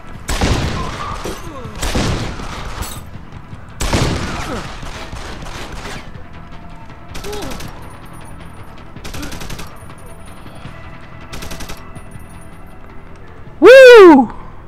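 Gunfire with explosive rounds in the Deus Ex video game, heard as several loud, sharp bursts of shots spaced a couple of seconds apart, each followed by lighter rumbling, with a brief bright sweeping electronic effect near the end.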